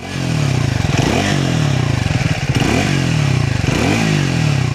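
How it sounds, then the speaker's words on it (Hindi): Triumph 400X motorcycle exhaust note, a loud, steady rattly engine drone with a bit of bass and three brief throttle blips, running continuously throughout. "मेरे को ट्रायम्फ का एग्जॉस्ट नोट कभी उतना पसंद नहीं आया।"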